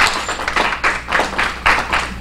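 An audience at an academic assessment talk claps to welcome a speaker onstage. The loud clapping comes in regular pulsing bursts, close by, with no voices.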